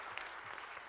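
Brief, faint applause from an audience at a TV One symposium for the show's team, a steady wash of distant clapping with a few sharper individual claps.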